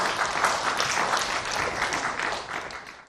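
Church congregation applauding at a Wednesday worship service, a dense, steady wash of clapping that fills the room for about three seconds and tapers at the end.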